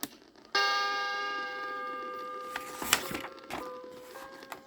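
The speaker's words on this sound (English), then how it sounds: "when you hear the chime, turn the page." A single bright chime strikes on a 1979 book-on-record, ringing out clearly and decaying slowly over several seconds with a few faint crackles behind it.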